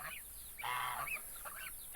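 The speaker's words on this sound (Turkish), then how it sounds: "Yavru kazlar buraya gelmişler." Young geese give a few high, thin honking calls in quick succession, close by, against a quiet background.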